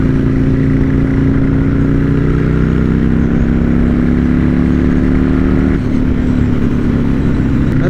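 A Buell S1 Lightning motorcycle engine pulls up smoothly from a low cruise around 2000 rpm, its steady rising drone loud and continuous, with a brief dip near the end.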